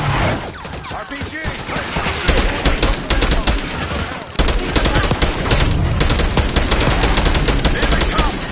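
Dense, loud gunfire from Call of Duty Black Ops 6 on PS5, rapid automatic bursts and overlapping shots sustained throughout in a close, chaotic firefight with no pauses.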